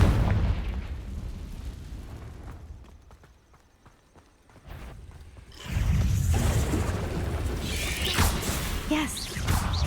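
A Confringo fire spell explodes in the Hogwarts Legacy video game. A low rumble fades almost to quiet, then a sudden loud, deep blast hits about halfway through and is followed by sustained roaring, crackling debris.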